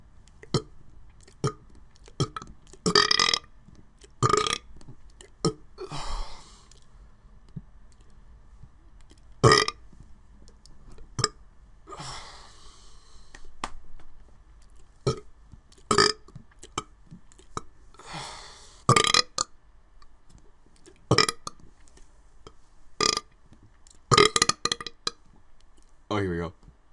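Repeated loud burps from a man, sharp isolated bursts spaced a few seconds apart across the span, with faint swallowing and mouth sounds in between and no talking.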